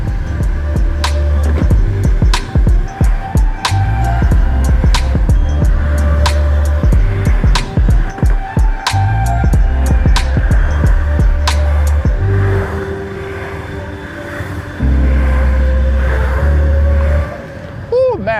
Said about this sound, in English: those mad wheels grip like crazy and they sound awesome as well